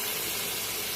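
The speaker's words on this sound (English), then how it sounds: "we're going to deglaze with a little bit of dry sherry." Dry sherry hitting a hot pan to deglaze it, a loud steady sizzling hiss that fills the whole brief moment, close up and alone.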